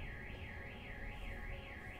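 An alarm siren effect from a FIFA 21 card review wails in a steady rising-and-falling loop, constant and faint over a low background hum.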